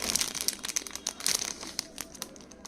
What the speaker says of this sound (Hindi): इस सिक्के को स्लीव में से निकाल कर मैं आपको दिखाता हूँ।